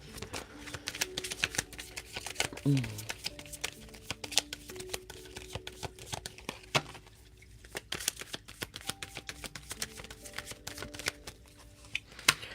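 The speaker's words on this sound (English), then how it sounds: "I'll pull some cards for you" Tarot cards shuffled and pulled from the deck, a steady run of soft riffling flicks and slaps heard up close, with no talking.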